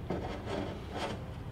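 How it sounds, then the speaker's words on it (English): Rear axle sliding out of a stock Harley touring bike's rear wheel, a close scraping, rubbing metal sound lasting about a second and a half with two slightly stronger pulls. "So we're just gonna pull that axle out."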